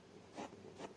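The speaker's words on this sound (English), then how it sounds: "So you will draw a skirt like this" A pencil sketching a skirt on paper, giving two soft scratchy strokes close by, each a brief rasping sweep, with a quiet pause between them and no talking.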